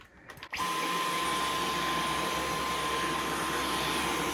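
A Dyson V11 cordless vacuum cleaner, brand new, switches on after a brief handling noise and runs at a steady, loud, even whine with a constant motor hum, close by and without talk.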